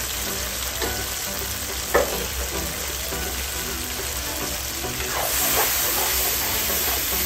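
A Kapampangan-style sauce seasoned with black pepper and chicken powder is stirred in a pan, making a continuous close bubbling sizzle with a couple of soft scrapes of the utensil.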